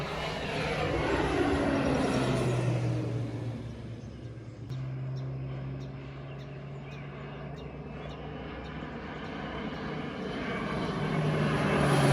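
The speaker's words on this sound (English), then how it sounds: "Crop duster flies low." Low-flying crop duster airplane passing overhead with a steady propeller-engine drone that swells, dips briefly, then grows louder again, heard alone without voices in a rural setting.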